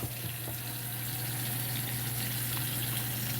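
Hot water from a tankless water heater gushing steadily at about 1.3 gallons per minute, a continuous close hiss and splash with a low steady hum beneath, no voices.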